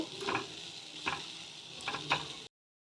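Mixed rice ingredients with cumin powder sautéing in a pan, a soft sizzle punctuated by a few spaced stirring scrapes, then a brief silence near the end.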